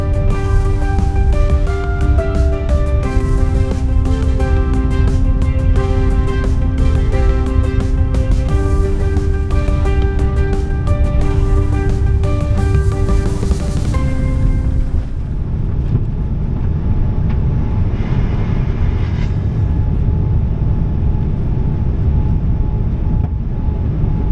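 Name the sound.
JAL Boeing 787-9 taking off from Gimpo runway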